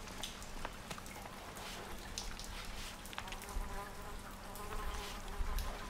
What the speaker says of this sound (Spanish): Mosquito ahí pululando